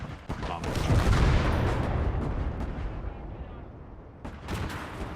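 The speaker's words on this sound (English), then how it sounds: "Doesn't seem like he's going anywhere, so we'll just bomb it." Explosions from a bombing run in Gates of Hell: Ostfront's Finland campaign: a heavy rumbling blast swells and rolls for several seconds, with scattered shots around it and another crack near the end, alongside occasional speech.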